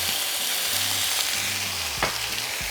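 Potatoes hitting hot oil in a pan, a loud, dense, steady frying hiss that fills the whole moment, with one brief clatter partway through.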